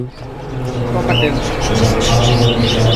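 Birds chirp and coo amid a busy, noisy background where people are talking, with one clear rising chirp standing out.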